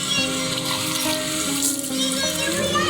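Water pours and splashes from a tap or container, a steady continuous wash lasting the whole moment, fairly close, with a voice faintly mixed in.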